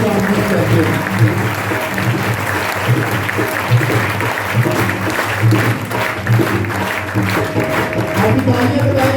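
Sustained, full applause from a congregation at a Catholic Sunday Mass welcomes a visiting Capuchin priest, steady and fairly loud throughout, with faint music or voices underneath.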